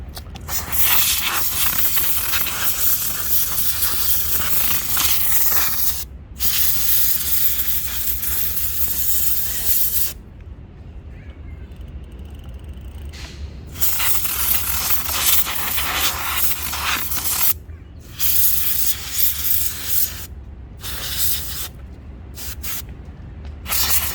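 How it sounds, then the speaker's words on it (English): Canned air sprays hard against an e-bike chain to blow debris from between the links, loud close hissing bursts of varying length separated by brief silences, no talking. "anything that's left in between the links I'm going to blow out with the canned air"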